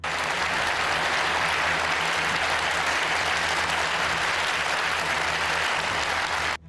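Steady, dense applause from a gathered crowd at Shinzo Abe's farewell outside the Japanese Prime Minister's office, loud and continuous throughout before cutting off at the very end.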